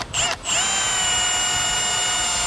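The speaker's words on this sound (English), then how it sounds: "we've got a 1/4-inch drill bit in our drill" A power drill with a 1/4-inch bit bores into a vehicle dash platform, giving a brief stutter and then a loud, steady high whine close to the microphone.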